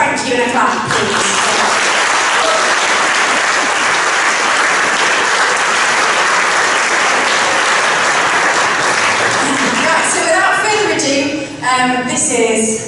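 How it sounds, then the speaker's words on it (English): A concert audience applauds at a gospel choir performance, loud sustained clapping filling the space for several seconds before tapering off as a voice begins speaking. "can you give a special thank you and a clap, please?"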